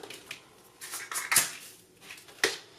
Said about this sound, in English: I'm going to fill up this 1/4 cup with coriander here